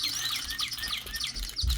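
Toy bird aviary gadget emitting repeated bright chirping birdsong, a steady series of high tweets close by with a faint low thump near the end and no talking.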